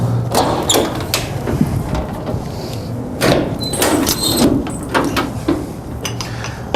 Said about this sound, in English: I'll go ahead and open the doors on the service body